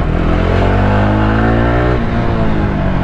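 A Jawa 42 Bobber motorcycle engine revs hard and loud, pulling steadily under acceleration for about two seconds before the tone shifts and the exhaust keeps roaring close by.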